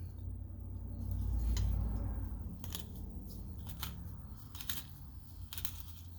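Quiet, close crunching and snipping as a cutting tool bites through a shotgun shell, with scattered sharp clicks over a low rumble.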